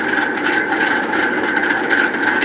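A 383 stroker V8 in a 1971 work truck idling with a lopey chop, a loud, close, continuous rumble with a faint uneven pulse and no talk.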